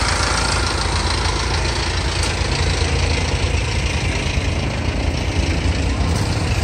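A motorcycle engine idles close by with a steady, loud, even chugging that runs unbroken from start to finish.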